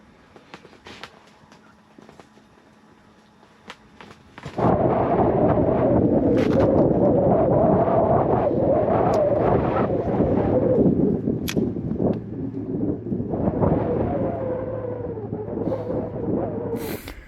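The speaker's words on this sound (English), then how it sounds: "Wind's picking up." Wind picks up over Lake Clear during a walleye fishing outing, starting as a faint hiss and then rushing into loud, steady, rumbling gusts that buffet the microphone for the rest of the stretch.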